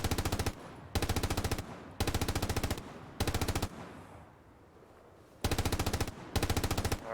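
Machine gun fire in a video game during a training session: long sustained automatic bursts, loud and close, separated by short pauses, with one longer quiet gap before two more bursts.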